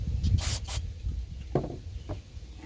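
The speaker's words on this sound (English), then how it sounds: "Spray some of this on." Two quick hissing sprays of cleaner from a spray bottle onto a carburetor part, close up, followed by soft rubbing and handling noises.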